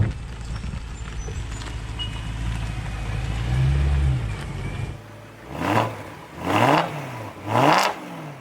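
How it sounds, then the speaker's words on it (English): Three sharp throttle blips from a 2007 BMW M3 V8 with a manual gearbox, each a quick rising and falling rev burst after several seconds of steady engine drone, close and loud. "with the V8 being so responsive, just a little blip on the throttle"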